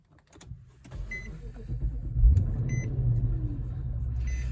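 An Infiniti FX50 is started back up: a few soft electronic ticks and chimes, then the engine cranks and catches with a low rumble that settles into a steady idle.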